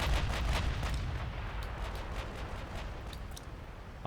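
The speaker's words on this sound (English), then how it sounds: "Some secondary firing as well." Secondary guns fire in a video game, giving a rumbling barrage of repeated booms and sharp cracks at a steady pace, moderately distant and fairly faint.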